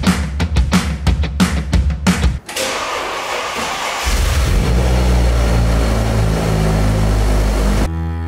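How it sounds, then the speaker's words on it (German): Audi RS6 engine cranking and catching, then idling steadily and loudly up close, after a run of heavy thumps. "starte vor allen Dingen endlich mal wieder den Motor"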